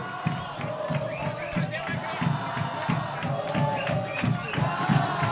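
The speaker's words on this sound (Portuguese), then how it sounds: "A torcida sobe o som aqui no estádio Lucídio Frazão." Football crowd at the Lucídio Frazão stadium during a Maranhão state championship match, a steady roar of fans chanting and cheering with rhythmic bursts throughout.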